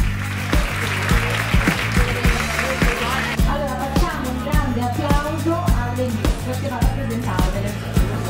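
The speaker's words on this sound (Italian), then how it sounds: "Un applauso per favore" Audience applause at the Modella per un giorno 2016 model contest at Molocinque rings out over pulsing, bass-heavy music with a steady beat.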